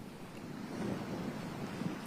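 Wind blows hard across open ground at Landmannalaugar in Iceland, buffeting the microphone in a low, gusty rush that swells and eases. It is heard alone, with no voices.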